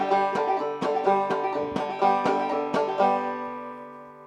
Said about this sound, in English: we strum the strings in a certain way to create the banjo-y sound that you heard at the beginning